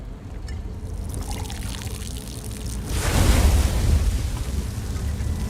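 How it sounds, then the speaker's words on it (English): Liquid pours onto braziers in Elder Scrolls Online, a steady broad rushing wash that swells louder midway and keeps going to the end, with no talking. "Try it, Master. Pour it on the braziers."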